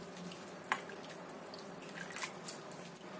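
Water drips and trickles from rice vermicelli drained after boiling, with a few distinct drops standing out over a steady faint wet background, close and quiet.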